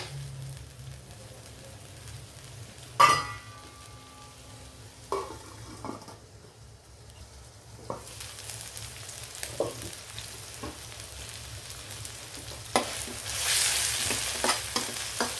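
Soft steady sizzling of vegetables including carrot frying in a pan for an egg dish, broken by occasional clinks and scrapes of a utensil stirring.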